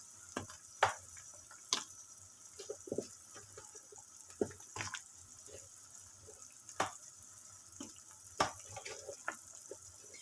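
Eggplant and other vegetables frying in a pan, faint steady sizzle under scattered utensil clicks and taps, quiet and close, no talking.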